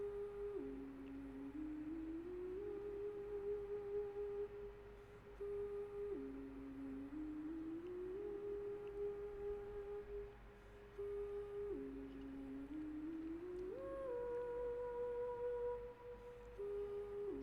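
Music from the Legend of Dragoon video game plays softly, a slow, sparse synth melody with repeating gliding tones over a low sustained drone, quiet and unaccompanied by talk.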